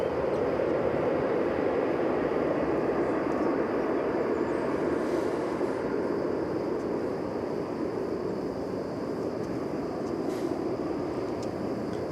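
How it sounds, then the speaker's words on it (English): An airliner on the El Paso flight at DFW Airport produces a steady, moderate jet roar that stays even and unbroken throughout, heard from outdoors at a distance with no talk. "this is the El Paso flight"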